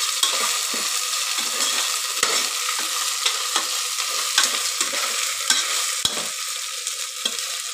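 Garlic paste fries in a pressure cooker while a spoon stirs it steadily, a constant hissing sizzle punctuated by regular scraping and tapping strokes against the metal, close up and without speech.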